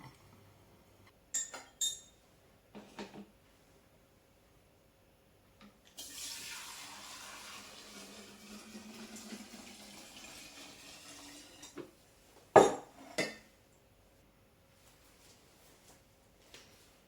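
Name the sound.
pouring diluted distillate into jars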